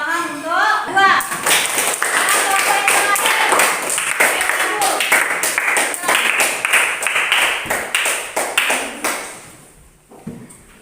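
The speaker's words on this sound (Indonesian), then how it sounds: "Tepuk tangan untuk 2." Classroom clapping for a student group during a primary science lesson on animals, a burst of many hands in quick rhythmic claps near and fairly loud, with children's voices over the start before it fades out.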